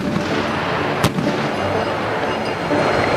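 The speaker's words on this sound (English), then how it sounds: "Behind me you can see the privates shooting 25 millimeter." A 25 mm Bushmaster cannon fires live on an army range during cavalry scout training, one sharp loud report cutting through a steady wind-like outdoor rumble.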